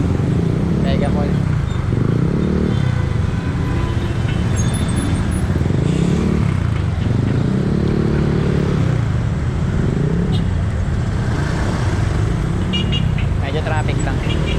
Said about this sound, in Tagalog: Medyo traffic lang.